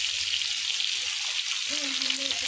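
River fish frying crisp in a pan gives a soft, even sizzle with faint spatters, while a low voice murmurs briefly near the end.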